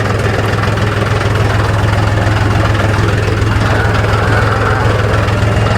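A tractor engine runs in a village, a loud, close, steady low diesel throb with a rapid even pulse that continues without a break.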